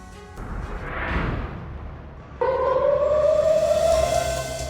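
A civil-defense air raid siren sounds during a school mock drill in Jammu, a loud wailing tone that swells, dips, then rises again into a sustained, steadily climbing howl.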